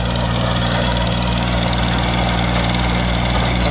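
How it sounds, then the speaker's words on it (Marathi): A Kubota tractor engine drones loudly and steadily in a field while pulling a large rotavator, with a constant low rumble and no talk. "मी एक आपल्या ट्रॅक्टरनं मारत आलेलं आहे"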